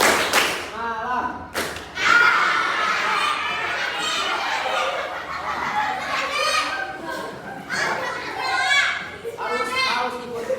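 A school class claps along in a classroom clapping game, slapping out a rhythm of sharp, irregular claps and thuds under loud children's chanting and a teacher's voice.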